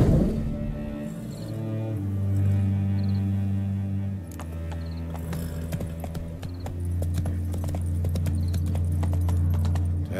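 Horse hooves clip-clop in the video game The Witcher 3: Hearts of Stone, a steady, close rhythm of sharp hoofbeats over a low droning hum and background music, with no talk.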